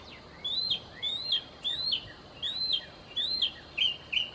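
A bird perched on a telephone pole sings a repeated bright, rising phrase, about eight short bursts at a steady pace, fairly close and clear over quiet outdoor background.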